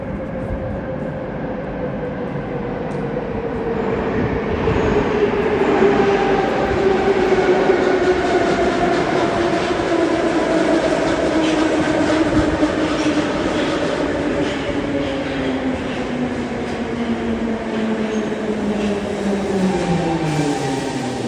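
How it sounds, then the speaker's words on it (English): A St. Petersburg metro train running underground, a loud continuous rumble with rising and falling motor whine and rail clatter that swells early and stays steady for the whole ride. "Now it's time to hop on the metro."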